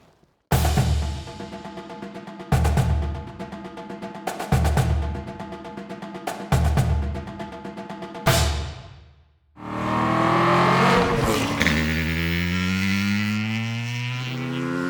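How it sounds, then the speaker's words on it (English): Langen 2-stroke cafe racer motorcycle on a race track, its engine revving loud and close through repeated sharp bursts that rise and cut off, then a sustained high wail with climbing gear-change pitches as it accelerates away. "we have the privilege of riding the Langen 2-stroke"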